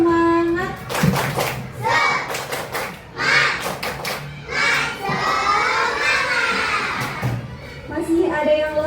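A group of children perform the rhythmic clapping cheer tepuk semangat during a teaching session. Sharp bursts of claps come together with loud chanting and shouting voices, close and lively, with a few short pauses.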